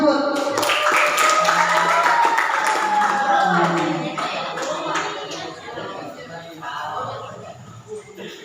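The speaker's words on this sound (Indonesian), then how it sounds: "Ya, tepuk tangan buat puput." Classroom applause for a student: scattered hand clapping from a group of students that fades after a few seconds, with talk and chatter continuing underneath.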